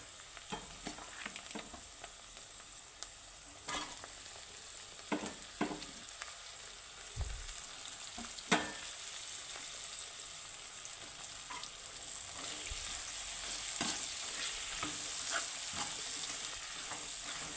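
Vegetable pieces frying in a browned tempering with salt, turmeric and coriander in a pan for an eggplant and moong dal curry: a steady close sizzle with scattered sharp clicks and scrapes of stirring, growing slightly louder toward the end.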